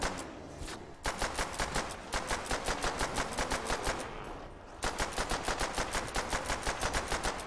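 Rapid automatic gunfire from a weapon in Call of Duty: World at War, loud and close, in steady bursts of evenly spaced shots with a brief pause near the start and another around the middle, no talking.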